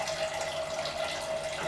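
Water runs steadily from a tap while tomato soup is thinned for chili in a home kitchen, a faint continuous stream with no talk.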